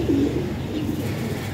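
Pigeons coo softly and steadily close by, a low throaty warble with no voices over it.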